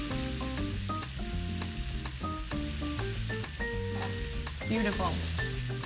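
Shrimp for keto tacos fry in a pan with a steady, crackling sizzle, while tonal clinks and background music run through it and a voice speaks briefly near the end.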